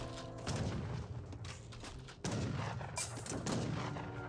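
Gunfire and booming cannon blasts from the Age of Empires 3 real-time strategy game ring out as several heavy, irregular shots with sharp onsets, clear and close amid the game's battle noise.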